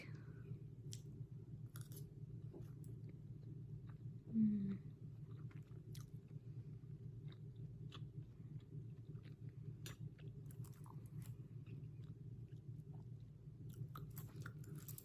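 A bite of homemade food being chewed in a kitchen, with soft repeated crunching and mouth sounds over a steady low background hum, fairly quiet and close, one brief louder knock partway through.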